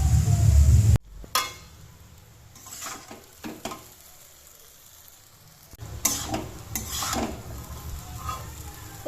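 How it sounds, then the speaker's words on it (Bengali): Vegetables sizzle and crackle as they fry in a pan in a home kitchen, with a loud burst at the start, then steady frying broken by spatula scrapes and stirring knocks against the pan. "এবার সবজিগুলো ভেজে নিচ্ছি।"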